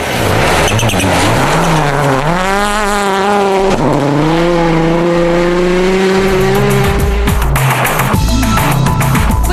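A Mitsubishi rally car at full throttle on a snowy 2006 WRC stage in Sweden, its engine screaming loud and close through rising gear pulls, then dropping into harsh roaring bursts as it passes.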